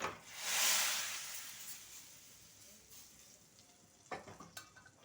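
Pepper rasam simmers in a pot on the stove with a soft, steady hiss and gentle bubbling, then a few light utensil clinks near the end.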